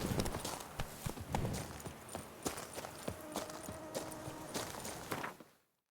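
Horse hooves clip-clopping at a steady walking pace in The Witcher video game, loud and close throughout with a faint tonal game soundtrack underneath, cutting to silence at the end.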